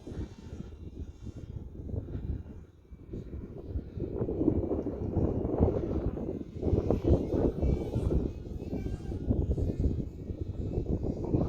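A small UMX Ultrix RC airplane flies at night in gusty wind, its faint motor buzz rising and falling under rough wind buffeting on the microphone.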